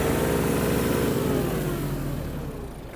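A Mitsubishi GOZ-32 mini tractor's small engine runs steadily up close, its throttle rising and falling in a rough, throbbing idle that eases off toward the end.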